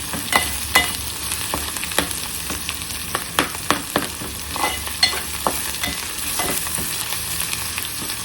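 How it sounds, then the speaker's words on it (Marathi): Garlic frying in oil in a pan for an Agri-style pomfret fry, a steady close sizzle broken by repeated scraping clicks of a spoon stirring, with no voices. "बघा लसूण झालेलं आहे शिजून."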